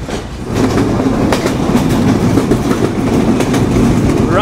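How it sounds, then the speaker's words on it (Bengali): The Rupsha Bangla Express intercity train runs along the rails at about 80 km/h, a loud steady rumble with rhythmic clickety-clack of wheels heard from inside the carriage. "রাইট নাও আমাদের ট্রেন আন্তনগর রূপসী বাংলার স্পিড ঘন্টায় 80 কিলোমিটার।"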